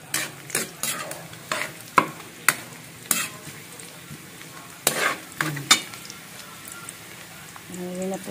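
Meat sizzles in a pan with ginger and garlic, with a spatula scraping and tapping in irregular strokes close by.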